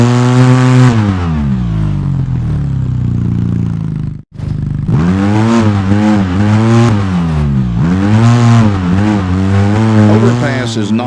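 An off-road vehicle in the game Overpass revs loudly and close, its engine climbing and dropping in pitch through several gear shifts, broken by one brief silent gap, with a voice talking over it.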